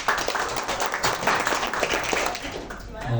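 Brief burst of audience clapping at a corporate event, moderately loud and uneven, tapering off as a voice begins at the end.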